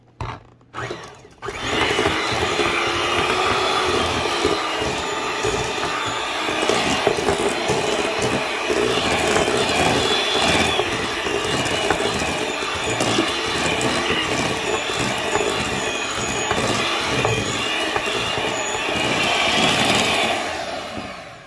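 Electric mixer churning Reese's Pieces cookie dough, a steady loud whir running almost the whole time after a brief start, with no talking over it.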